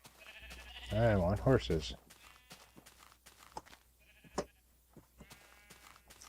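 A sheep gives one loud, wavering bleat lasting about a second, then quieter bleats follow. Someone talks over and after it.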